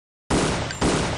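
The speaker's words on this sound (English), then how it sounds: "Yeah, shotgun there." Two close, loud shotgun blasts from Black Mesa, each a harsh full-band burst with a long ragged tail, the second following about half a second after the first.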